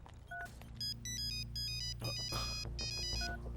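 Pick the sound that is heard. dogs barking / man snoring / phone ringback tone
phone ringback tone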